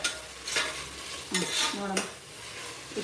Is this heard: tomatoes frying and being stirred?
yes